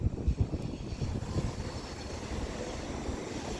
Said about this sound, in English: Transport for Wales service to Manchester Airport from Llandudno with the Class 197, which is pulling in into Llandudno Junction right now